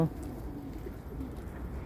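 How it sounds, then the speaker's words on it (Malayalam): Pigeons cooing nearby, soft low murmuring coos under a faint background, brief and steady with no clear talk. "പ്രാവാണ് ഇതൊക്കെ കുറേ പ്രാവുണ്ട് ഇതിൻ്റെ മുകളിലും ഉണ്ട് പ്രാവ്"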